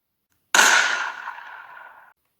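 A single video game gunshot shoots the hat off Bowser, one sharp crack that rings out and fades over about a second and a half, alone against silence.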